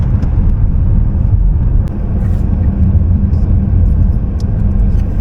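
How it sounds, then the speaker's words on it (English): Car driving on snowy roads, a loud steady low rumble of engine and tire noise inside the cabin, constant throughout with occasional faint clicks. "It doesn't really look like it, but the car's doing good in the snow."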